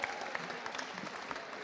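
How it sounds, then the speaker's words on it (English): Audience at a space careers event applauds, a short, faint and distant patter of clapping from the room. "So can I get a massive round of applause from you?"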